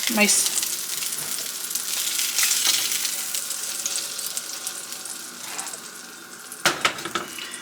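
Salmon frying in a pan for honey butter garlic salmon, a loud, continuous sizzle and crackle close by with occasional spattering bursts and a few clattering knocks near the end.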